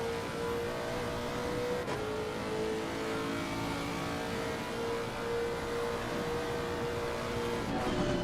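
A Ferrari race car in a racing video game on the Nordschleife during a 24-hour race, its engine a loud, steady high drone throughout, with two brief shifts in pitch along the way.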